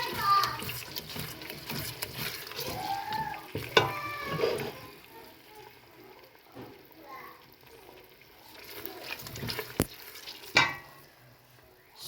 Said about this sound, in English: so we stir it, give it a very beautiful stir.